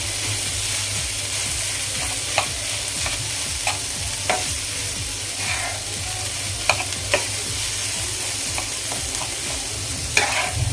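Cauliflower is stirred in a frying pan for a cauliflower and egg bhurji, with repeated spatula scrapes and clicks over a steady close sizzle and no voices.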